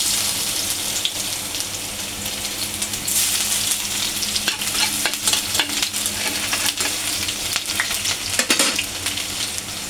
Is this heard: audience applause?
no